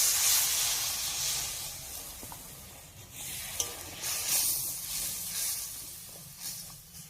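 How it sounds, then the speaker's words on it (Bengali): A spice paste for shukto sizzles in a pan as the water used to rinse the spices is poured in, making a hissing crackle that rises and falls while the pan is stirred, with no speech. "আমি এখানে মশলা ধোয়া জলটা দিয়ে দিচ্ছি।"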